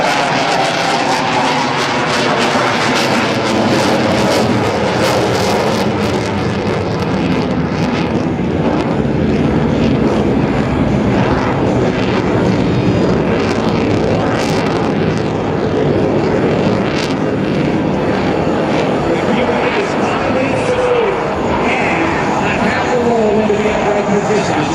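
An F/A-18C Hornet fighter flies a demonstration at an air show, its jet roar loud and continuous throughout while an announcer talks over it.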